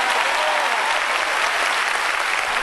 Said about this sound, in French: Et un fort applaudissement pour ce Dieu vivant.